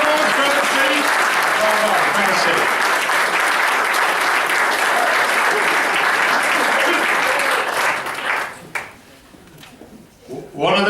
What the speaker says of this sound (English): Give a round of applause for the team.